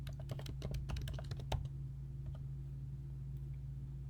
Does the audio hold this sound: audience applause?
no